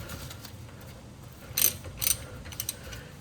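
A socket wrench ratcheting as it loosens a brake bolt on a 2014–2019 Toyota Corolla, heard as a few short bursts of quick metallic clicking in close succession above a quiet, steady background.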